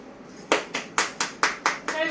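Hands clap about seven times in a steady, moderately fast rhythm, each sharp and close, at a family gathering.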